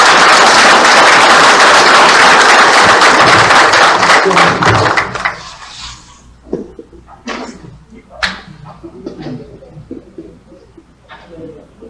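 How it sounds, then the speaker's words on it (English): A room full of people applauds a speaker at a formal gathering, loud dense clapping for about five seconds before fading into scattered claps, thumps and faint murmuring. "So please give him a round of applause."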